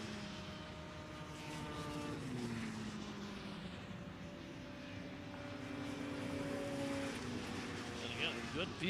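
Superstock 340 liquid-cooled snowmobiles racing on a frozen pond, engines whining and rising and falling in pitch as they pass at a distance, with a commentator talking over the noise.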